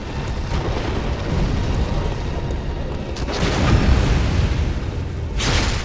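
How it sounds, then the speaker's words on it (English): A boss hurling fire in Bloodborne, the Keeper of the Old Lords fight, a dense roaring rumble with whooshing fiery bursts swelling loud and close over constant combat noise. "Oh, now we're gonna throw fire and stuff?"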